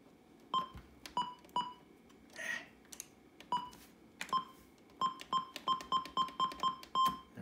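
A satellite radio controller emits short, clean electronic beeps, spaced apart at first and then in a quicker run of about ten, with soft clicks and button thunks in a quiet room.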